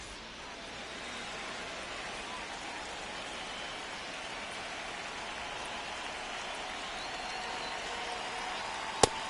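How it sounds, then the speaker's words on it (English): Steady rain pours down at a baseball stadium during a Yankees versus White Sox game, a constant broadband hiss of drops on surfaces throughout, with one sharp click near the end. "It feels like we might be headed towards a rain delay if the weather doesn't ease up, Chris."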